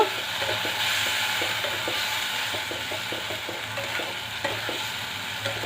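Black and white mustard seeds with poppy seeds fry briefly in a pan for a Bengali sim (flat bean) dish, giving a steady close sizzle with light stirring scrapes, no voices.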